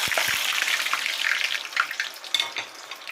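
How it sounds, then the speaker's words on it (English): Plantains slid into hot oil while cooking yam fries, a bright crackling sizzle with small pops, close and steady, fading slightly toward the end, with no talking. "I think my oil is ready, so I'm going to add my plantains."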